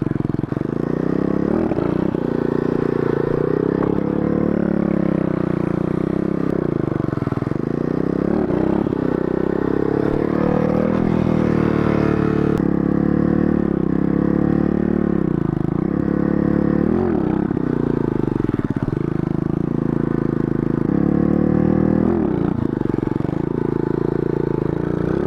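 A mini moto's small engine runs steadily and loudly throughout while being ridden, with the pitch rising and falling as the throttle changes.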